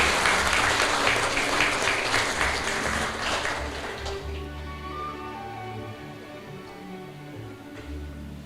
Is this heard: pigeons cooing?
no